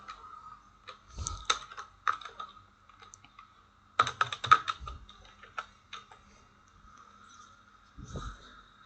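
Code being typed on a computer keyboard, with crisp key clicks arriving in irregular bursts and short flurries separated by pauses, close and fairly clear, with no talking.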